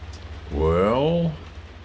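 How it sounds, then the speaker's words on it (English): Rain falls steadily as a soft, even hiss in the background. Someone speaks briefly over it. "it's raining."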